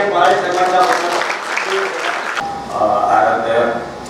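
Audience applause at a cinema grand opening event, a crowd clapping under loud talk and ambient noise, swelling again after a brief shift midway.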